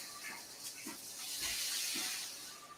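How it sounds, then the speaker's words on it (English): Something frying in a kitchen, a faint, continuous sizzling hiss heard at a distance that swells slightly midway, with a few soft low thumps and no talking. "I heard something frying in the back."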